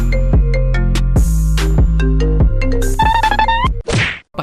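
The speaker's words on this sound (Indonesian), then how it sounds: "Telepon berdering." A telephone ringtone in a film scene, played as a loud run of bright, percussive electronic notes in quick succession that cuts off abruptly near the end.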